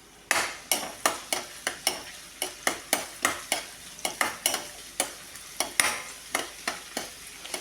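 Chopped garlic, ginger and green chilies sizzle in a pan for a fish curry while a spoon scrapes through them. The stirring strokes come in an even rhythm of sharp scrapes over a steady, close frying hiss, with no talking.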